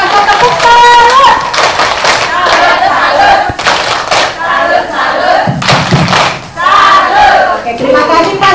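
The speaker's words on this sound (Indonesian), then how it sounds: "Kita beri tepuk salut dulu dong buat Pak ya." A seminar audience on strengthening women in politics performs a rhythmic clap-and-chant salute, with loud shouted voices, clustered claps and thumps repeating across the stretch in a lively crowded room.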